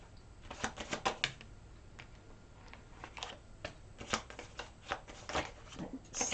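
Tarot cards are shuffled by hand in a series of soft, close riffles and flicks that come in quick bursts, with no talking.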